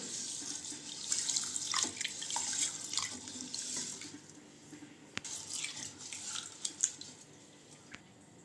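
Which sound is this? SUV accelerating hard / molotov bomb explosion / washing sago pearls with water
washing sago pearls with water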